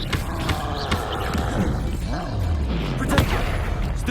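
A disarming Expelliarmus spell cast in Hogwarts Legacy on PS5 Pro lands as punchy, booming magical bursts within a dense, busy battle mix, with a sharper crack near the end.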